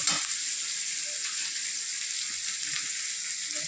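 Washed coriander and curry leaves sizzle steadily in hot oil for a Tamil Nadu–style aaku pappu sambar tempering, a constant bright hiss with faint stirring clicks underneath.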